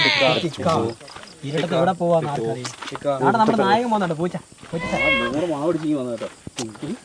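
A cat meows repeatedly up close, its drawn-out, wavering cries mixed with people talking nearby.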